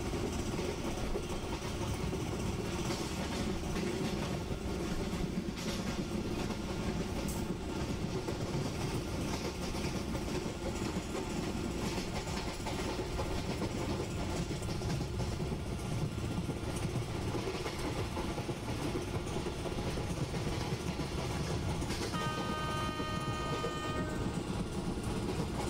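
Mumbai Central–Ahmedabad double decker express train running through a station without stopping, a steady loud rumble and clatter of wheels and coaches, with a brief horn-like tone near the end.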